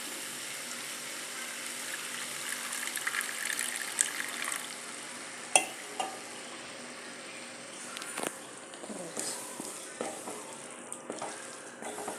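Water is poured into a pan of prawn gravy as it cooks, a low steady hiss and bubbling with occasional faint clinks and splashes, quiet throughout.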